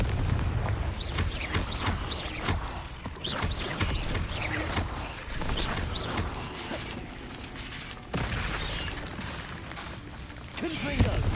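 Repeated Confringo blasting spells exploding in Hogwarts Legacy amid ancient magic chaos, a dense run of loud booming bursts and crackling impacts through the whole stretch, with a voice speaking over parts of it.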